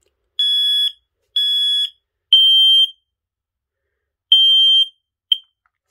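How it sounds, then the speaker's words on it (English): FireX FADC230 smoke alarm under test gives loud, piercing high-pitched electronic beeps: two steady tones, a third slightly different one, a pause, then another long beep and a short final chirp. "when this detects smoke, it would just go straight into alarm"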